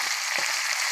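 Chopped medium-sized onion dropped into hot oil with green cardamom and cloves, giving a steady bright sizzle with a couple of soft thuds as the pieces land.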